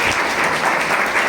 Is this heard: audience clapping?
yes